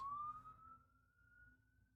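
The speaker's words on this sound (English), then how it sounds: "Oh, there's a police car driving by." A police car siren wails past during talk about a cryptid sighting, a steady rising tone that starts fairly loud and fades as the car moves away, with low background rumble beneath.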